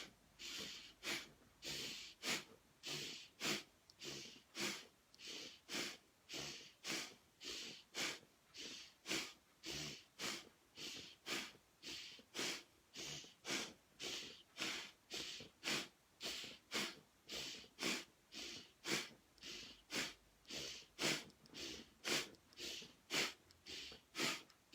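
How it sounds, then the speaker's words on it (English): Breaths during a breathing exercise come as a long run of rapid, forceful, evenly spaced inhale-exhale cycles through the nose, close and clear with no talking. "Okay, breathe in."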